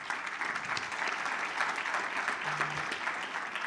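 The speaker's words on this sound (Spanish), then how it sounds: "Un aplauso, Luciano, por favor" Steady audience applause at a construction-industry congress debate in a hall, dense and sustained clapping with a faint voice briefly underneath.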